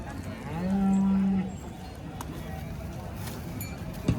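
A black cow at a cattle market in Sangola gives one loud, drawn-out moo lasting about a second, over a busy market background with faint voices.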